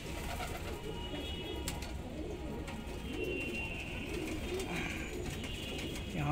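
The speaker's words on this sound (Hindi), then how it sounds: "तो ये है ब्रीडिंग वाले कबूतरों का सेटअप" Low, soft cooing from breeding Punjabi pigeons in a loft in Indore rolls on continuously, with faint overlapping calls against a quiet, steady background.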